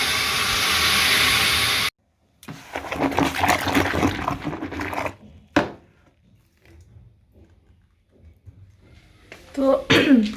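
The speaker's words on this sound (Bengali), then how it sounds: "ওর জন্য গরম জল বসানো। তো এখান থেকে আসলে শোষা আওয়াজ হচ্ছে" A pot of water heating on a kitchen stove beside a fish curry, giving a loud, broad steady hiss for the first seconds before it cuts off, followed by clattering kitchen noise and a voice talking.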